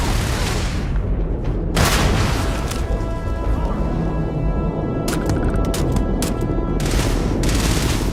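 Gunfire in the Starfield video game, a heavy and constant volley of rapid shots and booms with sharp bursts standing out, loud and close, with no voices over it.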